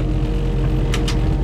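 Two 60-horsepower onboard engines of an amphibious bus turning over and idling, a steady low rumble filling the space, with two short hissing bursts partway through.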